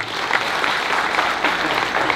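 An audience at a community gathering in Kitgum breaks into steady, loud applause, a dense wash of clapping from many hands with a faint crowd murmur.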